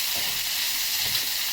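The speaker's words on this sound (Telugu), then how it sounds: "ముందుగా మెత్తళ్ళు వేయించుకుంటున్నామండి." Small nethallu fish for a Guntur-style Andhra curry fry in hot oil, giving a loud, steady close-up sizzle and hiss with a couple of soft bubbling pops.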